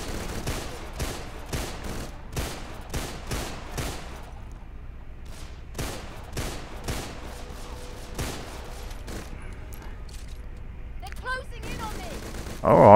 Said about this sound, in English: She's getting sprayed up by automatic gunfire